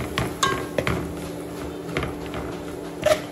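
A metal spoon clinks and scrapes against a cooking pot while turmeric and Agri masala are mixed in, giving a few sharp, close taps spread over a quiet background.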